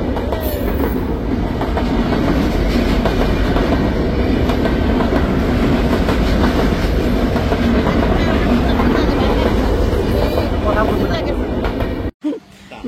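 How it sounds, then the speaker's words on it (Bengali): A train rolls past nearby with a loud, continuous rumble and rhythmic wheel clatter that lasts almost the whole time before cutting off abruptly, while people talk in the background. "এখানে দাঁড়াইছিলাম আর ট্রেন আসছে।"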